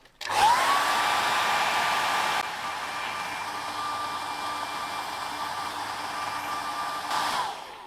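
A hot-air gun drying a heavily loaded second coat of paint at close range blows in a steady loud whoosh for several seconds, easing slightly partway through and cutting off at the end.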